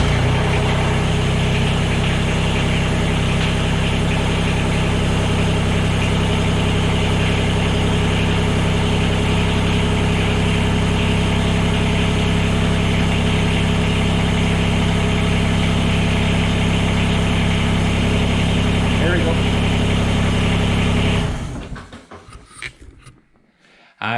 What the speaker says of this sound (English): I'm going to start the engine, and then take a look when that light here is going to disappear.